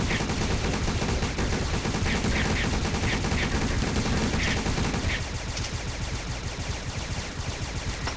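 Towers firing in a tower defence video game, a dense continuous clatter of rapid shots with light repeated higher pings, busy throughout and easing slightly in the latter part.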